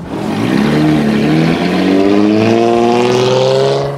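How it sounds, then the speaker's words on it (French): A big Bentley drives out with a loud, close engine note that rises steadily as it accelerates away, its pitch climbing through several gear-like strands over a continuous roar, with no talk. "Grosse voiture à l'ancienne."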